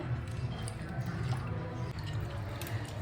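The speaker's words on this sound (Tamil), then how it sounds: "இந்த பச்சை மிளகாவையும் நல்லா நம்ம நசுக்கி விட்டுக்கலாம்" Green chillies crushed by hand into a wet fish curry mixture, giving a steady, soft squishing and sloshing close by with no talk.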